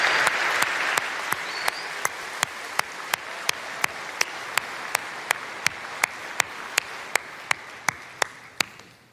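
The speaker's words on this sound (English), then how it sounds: "How about a huge round of applause for our friends at Cirque?" Broad, sustained audience applause at the Microsoft Build 2017 keynote, cheering performers from Cirque, with sharp louder claps popping out at a regular beat over the steady wash of clapping.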